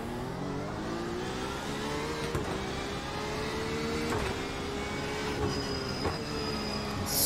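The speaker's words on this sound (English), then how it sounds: "Squealing brakes here into turn one." High, sustained brake squeal from a Porsche 911 RSR in iRacing, heading into turn one, over a steady engine drone, with a rising whine near the end; no talking.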